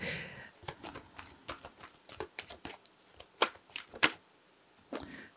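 Tarot cards are shuffled by hand in quick bursts of soft riffling and slapping, with short pauses between them. A few sharper snaps stand out near the end of the close, quiet sequence.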